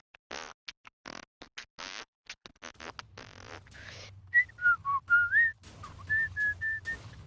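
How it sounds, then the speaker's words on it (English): A person whistles a short rising and falling tune, with a run of sharp clicks and taps beforehand and a low hum beneath the whistled notes. "Are you whistling?"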